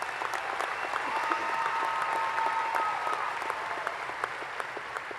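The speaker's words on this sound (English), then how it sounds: "So, class of 2025, give yourself a round of applause." A graduating class of 2025 at a high school graduation ceremony gives itself a round of applause, a dense, steady wash of clapping from a large crowd that holds at a moderate level throughout.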